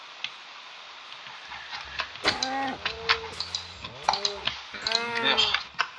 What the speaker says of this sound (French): Il y a des vaches en bas, je vais les tuer.